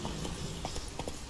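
Hooves of Roach, a horse in The Witcher 3 on Skellige, clip-clop in an irregular string of soft thuds over a steady background of ambient game noise.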